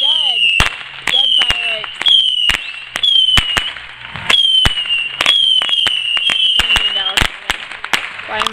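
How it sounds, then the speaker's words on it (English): Repeated sharp firework bangs burst one after another over a continuous high whistling screech, with a voice talking between the blasts. "Fireworks! Going up in the sky."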